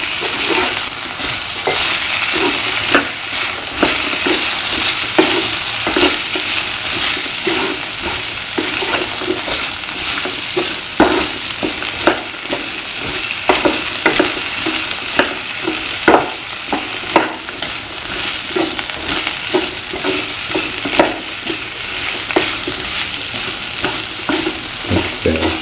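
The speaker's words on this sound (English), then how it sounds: "Mix the plantain pieces with the Recepten cream." Plantain pieces sizzling steadily in a frying pan while being stirred, a continuous loud crackling hiss with frequent scraping and stirring knocks throughout, close up and without talk.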